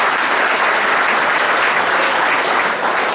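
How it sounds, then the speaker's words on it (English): A loud, dense round of applause from an audience at a gathering, continuous and full throughout with no gaps and no voices on top. "How about a big round of applause for Mark the Edge"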